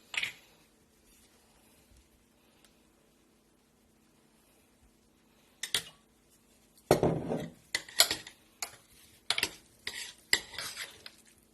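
Avocado and egg sandwich spread stirred vigorously in a bowl, a quiet start giving way to repeated scraping clinks of a utensil against the bowl in short irregular bursts.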